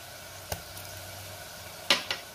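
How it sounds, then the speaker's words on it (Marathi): Ginger garlic paste going into a pan of fried onions, with a low steady sizzle and a few sharp clinks and scrapes of a spoon against the pan. "आता आपल्याला यामध्ये आलं लसणाची पेस्ट घालायची"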